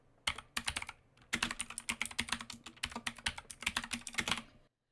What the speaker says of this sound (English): I'll type in my desired file name